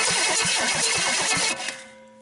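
A rat rod engine fitted with a 2-bolt nose cone is cranked over by its starter motor: a steady, rhythmic churning of evenly spaced beats for about a second and a half, close and loud, ending in a short falling whir.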